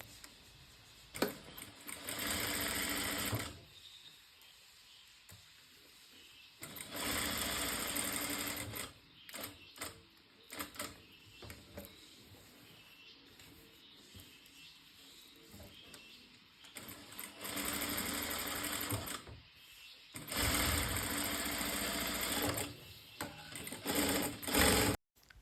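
A sewing machine stitches the neckline of an Anarkali top from the canvas side, running in several separate bursts of steady whirring with quiet pauses between them. The sound is fairly faint.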